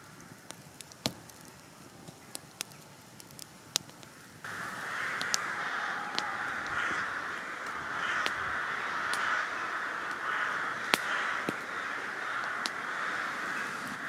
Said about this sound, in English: Wish them frigging birds would shut up.